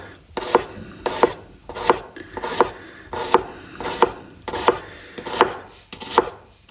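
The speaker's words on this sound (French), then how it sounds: "Et on finit de tailler notre oignon." A knife chops an onion on a cutting board in a kitchen, with about a dozen crisp, evenly spaced strokes in a steady rhythm, close and alone.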